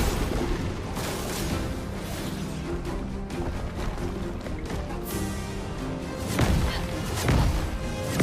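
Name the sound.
Rain of Fire attack effect in video game Clair Obscur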